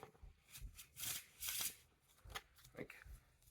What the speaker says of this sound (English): it's very satisfying when you can get like a good shuffle and bridge